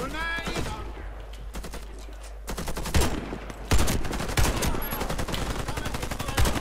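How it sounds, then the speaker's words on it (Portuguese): Rapid automatic gunfire from a first-person shooter, Warface, with dense bursts and sustained volleys of close, loud shots, plus someone talking briefly at the start. "Ah, falhei o tiro."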